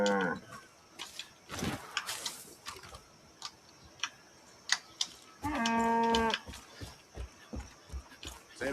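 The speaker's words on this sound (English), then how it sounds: "These are just cows. Hi, cows." Cows in a video game moo with a long harmonic call in the middle and another brief low moo earlier, set among ticking clicks and other game noises, with a person talking in between.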